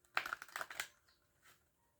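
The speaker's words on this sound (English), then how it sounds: "A few more shuffles." A deck of cards is shuffled close up in a quick riffle of several rapid ruffling flutters, followed by a soft settling tap, fairly quiet overall.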